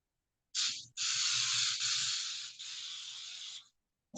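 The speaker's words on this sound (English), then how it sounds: "This is a spray olive oil." Olive oil cooking spray hisses into a baking dish in a kitchen. Close, loud aerosol bursts come in three spurts: a short first spray, then a long steady one that falters briefly before continuing. No one talks.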